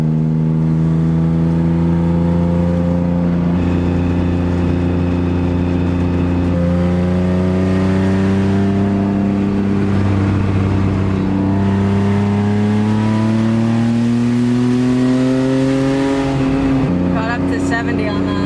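A drift car with its exhaust patched with putty drives along, its engine droning loudly and rising and falling in pitch as it revs through gears, with a voice heard briefly over it.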